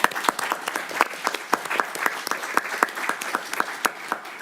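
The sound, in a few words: audience applause for departing student trustees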